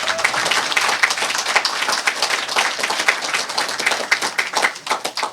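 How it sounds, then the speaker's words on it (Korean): A lecture audience gives a long, vigorous round of applause, cheering on Olympic athletes. The clapping is thick and continuous, close and loud, and keeps up at full strength for the whole stretch. "힘찬 격려 박수"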